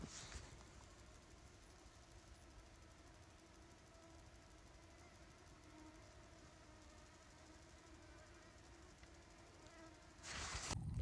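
Dense insect whine from a large swarm of mosquitoes in a forest, a steady continuous hum held at even loudness with no voices, ending in a brief louder burst of noise.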